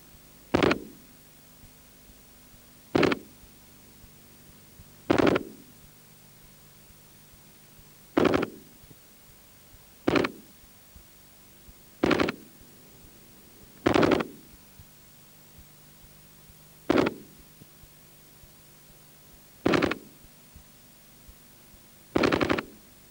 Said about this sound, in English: To fire on the automatic mode, which is its primary mode, you simply push up to the next slot.